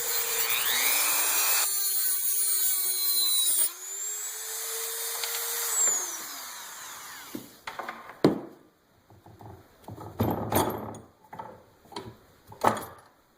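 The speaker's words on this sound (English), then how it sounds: "And again, I'm using a Dremel for this." A Dremel rotary tool cuts through a brass rifle case to shape an arrowhead, with a high, steady whine that dips and recovers under load for several seconds, followed by scattered clicks and handling knocks.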